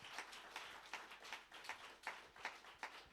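A church congregation claps in a steady, even rhythm, roughly three claps per second, soft and somewhat distant, with no talking over it.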